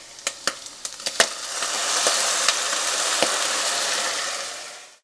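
Red wine poured into a hot saucepan of Bolognese sauce crackles with a few sharp pops, then settles into a steady loud sizzle while it is stirred, fading near the end.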